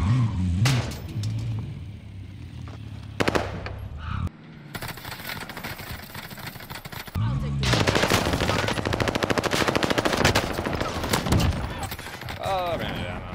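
Call of Duty Warzone gunfire: bursts of rapid automatic shots and sharp single cracks, loud and close, broken by brief lulls, with a sustained stretch of heavy firing in the second half and a player talking over parts of it.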